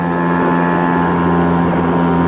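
3.6 hp gas engine driving a hydrofoil kayak on the water, a steady loud buzzing drone heard close up with no break.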